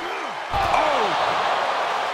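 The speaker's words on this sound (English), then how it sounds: "Look at the struggle just to shut that first door." A heavy metal ambulance door slams shut in a wrestling video game, one sharp loud impact followed by a ringing tail, with a voice talking over it.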